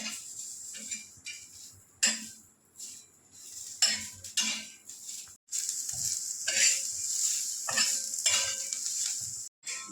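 Dry coconut and onion roast in a pan while a spoon stirs them steadily, with scraping and clinks of utensil on metal over a soft sizzle close by, and no talk.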